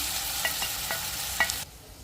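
A short burst of mashed eggplant frying in a tempering in a pan, with a soft hiss and a few stirring scrapes before it cuts off.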